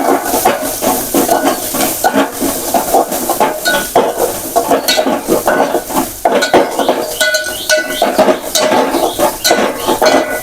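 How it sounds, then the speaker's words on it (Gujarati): Onions sautéing in a pan with mustard seeds, cumin, asafoetida and curry leaves for a vegetable dish, heard as repeated clattering of a spoon stirring against the pan over a faint sizzle, close and busy. "ડુંગળીને આપણે સારી રીતે સાંતળી લઈશું જેથી કરીને અંદરથી કચાશ નીકળી જાય"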